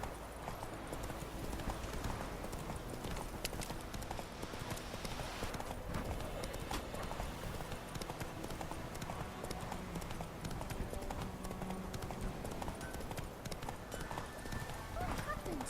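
In the Witcher 3 video game, a horse gallops with a steady, continuous clip-clop of hooves, layered with ambient game sounds and occasional talk.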